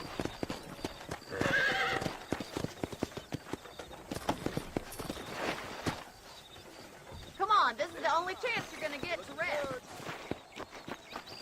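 Horse hooves clip-clop steadily in Red Dead Redemption on Xbox One S, close and moderately loud, with a horse whinnying partway through.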